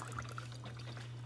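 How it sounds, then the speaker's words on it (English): An aging household drip coffee maker brews, and a thin trickle of coffee pours into the pot over a steady low hum, quiet and close. "There's that coffee going. It hasn't really hit its peak of coming out yet."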